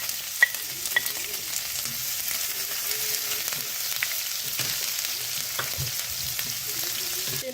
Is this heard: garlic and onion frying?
yes